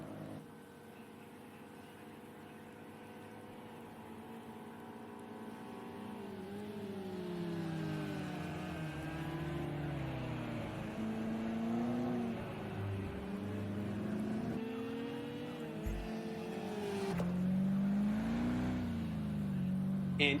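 GTE race cars lapping Spa in a racing video game, engines droning and rising and falling in pitch as they accelerate and shift, a steady moderate roar throughout.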